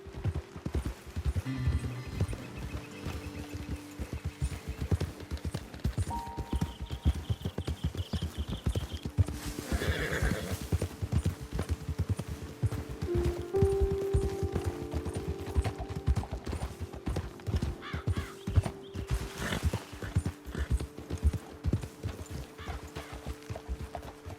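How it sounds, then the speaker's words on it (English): Horses in the Red Dead Redemption 2 video game walk with steady, continuous clip-clopping hooves, close and clear, with an occasional neigh and faint mechanical creaks, no talking. "Best leave the horses back a bit."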